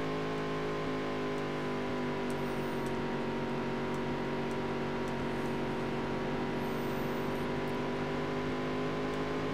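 Race car engine in a racing video game, a sustained droning harmonic whine that holds steady across the whole stretch with slight pitch shifts, no talking.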